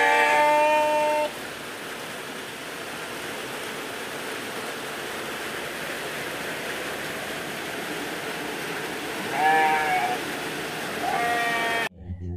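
Sheep raised for meat on a rural farm bleat in short, clear calls, one burst at the start and more near the end, over a steady hiss of wind and background noise.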